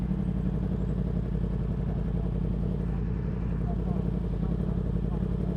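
A 125cc motorcycle cruises along a road with a steady, close engine drone and rumbling road noise, while a rider talks over it.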